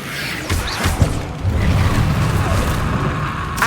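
A fire spell is cast in the Hogwarts Legacy video game, with several whooshing, crashing magical bursts and thuds over a dense, roaring game soundscape. A sharp hit lands near the start, followed by sustained rumbling.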